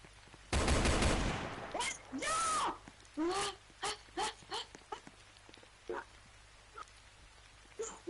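Gunfire in a video game strikes the player: a loud, dense burst of shots comes first, followed by a string of shorter sharp bursts and whining tones at irregular intervals.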